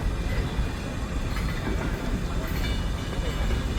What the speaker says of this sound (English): The train will be moved carefully to position under the direction of the guard and the shunter.